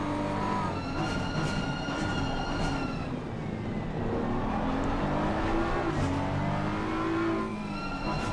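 A BMW race car engine screams in an Assetto Corsa Competizione league race at Indianapolis. It holds a loud, continuous high-pitched whine with rising and falling revs as gears change, and other cars are heard behind it. Nobody speaks.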